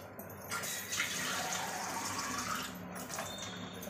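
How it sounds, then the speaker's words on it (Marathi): Water splashes and pours steadily over four or five mangoes set to soak for mango pulp, a soft continuous rushing with a brief break near the end, heard alone. "आंबरस करण्यासाठी 4-5 आंब्यांमध्ये मी अर्धा तास पाणी टाकून ठेवते"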